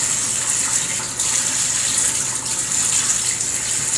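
Kitchen sink tap running steadily while ribs are cleaned, a continuous close gush of water with a brief change partway through and no voices.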